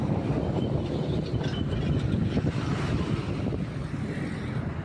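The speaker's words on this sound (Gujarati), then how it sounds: "તો આવું મોટું એન્જિન જાય છે." A large heavy engine vehicle rolls past on a road near a village market, its deep rumble and broadband roar close and sustained throughout, with wind buffeting the microphone and no one talking.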